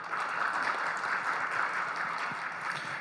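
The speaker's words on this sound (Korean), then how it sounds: "여러분 큰 박수 부탁드리겠습니다" Steady, even applause from a conference audience welcoming a speaker onto the stage, a continuous wash of many hands clapping at moderate, somewhat distant level for the whole stretch.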